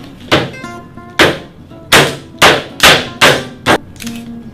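A camera is used to hammer nails: six loud, sharp blows striking hard objects at an uneven pace, close by, with short ringing decays and quiet gaps between.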